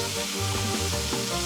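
Prawns frying in a hot pan, tossed with a wooden spoon: a steady, loud sizzle with soft clacks and shuffles as the food is lifted and turned, no voices.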